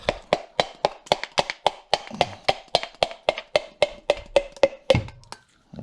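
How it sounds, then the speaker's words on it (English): Sharp metallic knocks drive out a piston pin during a VW Beetle engine rebuild, about eighteen close, loud, evenly spaced blows over several seconds, then stopping. "So let's take this out, knock it out with"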